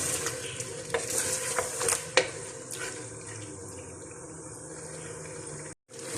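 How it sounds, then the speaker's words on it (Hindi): Mutton frying in a pan for Delhi-style haleem makes a steady sizzle. Sharp scrapes and clinks come from stirring, then the sound fades out and cuts off briefly near the end. "गोश्त को थोड़ी देर के लिए भूनेंगे ताकि इसका कलर चेंज हो जाए।"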